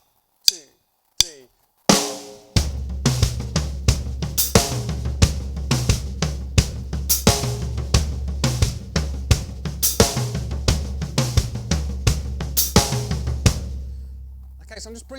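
Drums played on the toms in a slow groove, with the left hand dropping to the floor tom on the upbeat of four; a few single hits count in, then a steady rhythmic pattern of resonant tom strikes follows, close and clear.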